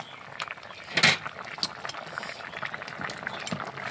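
Puti fish and taro curry bubbling in a pot, a steady soft simmer of pops and gurgles with one louder burst of bubbling near the start, close by and alone with no talk.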